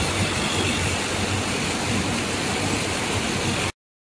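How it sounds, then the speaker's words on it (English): A XIESHUN folder gluer machine runs steadily, a dense, even mechanical whir and rush with no pauses, fairly loud and close, then cuts off at the end. "apply folder and glue with the folder glue machine"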